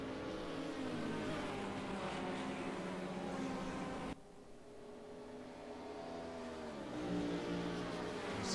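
Vintage GTO Classics and Group C endurance race cars roar side by side into turn 1, a continuous loud engine drone that dips briefly and then swells again as the cars accelerate.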